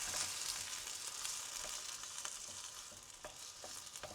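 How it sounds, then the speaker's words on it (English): Tomatoes and turmeric sizzle and fry in hot ghee in a pan, with a steady close crackle and occasional soft scraping as the mixture is stirred. "And we're going to just stir this to combine."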